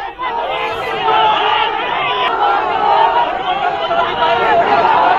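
Crowd of protesters gathered against a local legislator over a land dispute, a dense steady babble of many voices talking and shouting at once, loud and close throughout.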